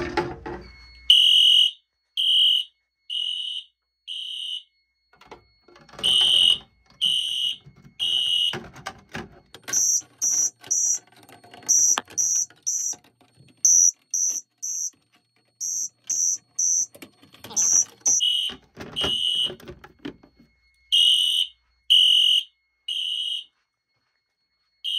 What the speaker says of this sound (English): So we'll go ahead and pull the alarm.